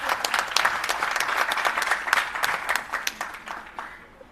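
An audience at a restorative justice conference breaks into applause, dense rapid clapping from a full room that carries loudly for a few seconds and then thins out and fades.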